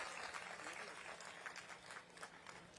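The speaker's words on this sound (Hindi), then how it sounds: "जोरदार ताली बजाओ।" A crowd at a political rally in Raipur applauds, a steady wash of distant clapping that swells and dips slightly throughout, with no clear speech on top.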